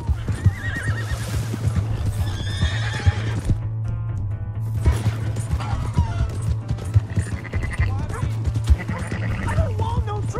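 A horse in the Red Dead Redemption 2 video game whinnies loudly and repeatedly over clip-clopping hooves, with shouting voices mixed in.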